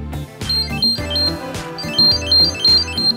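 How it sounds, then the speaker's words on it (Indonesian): The Google TV Streamer remote's buzzer speaker plays its Find My Remote alert, a bright repeating electronic chime melody with bouncing tones over a steady beat, heard clearly with no talking. "terdapat buzzer speaker di bawahnya untuk fitur Find My Remote pada Google TV Streamer"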